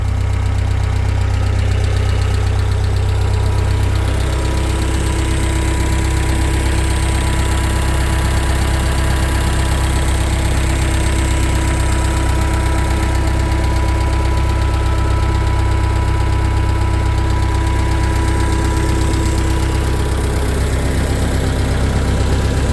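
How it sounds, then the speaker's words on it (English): An original 1969 Ford 5000 tractor engine idles loudly and roughly up close, then its throttle is raised slightly and it settles into a steady, vibrating diesel rumble. "See if we can throttle it up a little bit without stalling it out."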